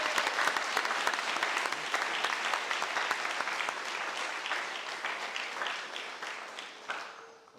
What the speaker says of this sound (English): let's clap one last time before they get to flip them